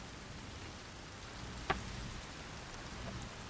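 Steady rain hisses in the video game Sky: Children of the Light, a continuous even wash of falling drops with one brief sharp tick partway through.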